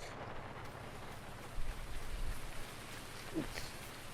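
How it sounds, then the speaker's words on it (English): Heavy rain drums steadily on a vehicle roof on a farm, a dense continuous hiss with low rumbling underneath and slight surges in intensity, no voices. "The rain's heavy."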